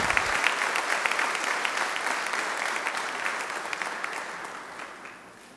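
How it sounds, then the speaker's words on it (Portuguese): A Evangelical Baptist church congregation at a golden jubilee thanksgiving service claps for visiting pastors, a broad, sustained round of applause that holds steady and then eases off slightly at the end. "recebam essa salva de palmas em meu nome, em nome da Igreja Evangélica Batista."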